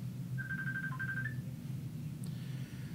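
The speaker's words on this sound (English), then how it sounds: "Where did Samantha leave her phone?" A mobile phone ringtone plays a short, faint melodic phrase in a mushroom cultivation lab, sitting over a steady low hum with no one talking.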